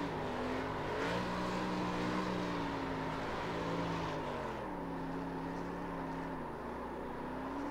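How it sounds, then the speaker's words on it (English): A race car in iRacing holds a straight-line burnout, its engine droning at a sustained, slowly wavering pitch over a constant hiss of tire noise, fairly faint and without talk. "The burnout in a straight line is the funnest."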